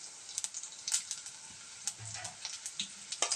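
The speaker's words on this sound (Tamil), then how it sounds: "இப்போ இது கூடவே நாம் வந்து நம்ம இடித்து வச்சுருக்கிற சுண்டைக்காயை சேர்த்துடலாம்" Crushed turkey berries (sundakkai) frying in a pan for a Tamil rasam, soft crackling sizzle with scattered pops and stirring scrapes, fairly quiet and close with no voices.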